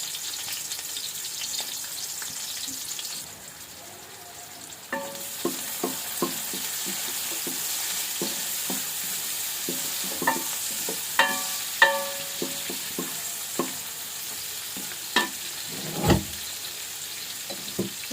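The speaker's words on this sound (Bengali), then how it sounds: "দিয়ে দিলাম এটা ভাজা হোক" Steady sizzle of onions frying in a pan, with repeated clinks and scrapes of stirring scattered throughout, close by and without talk.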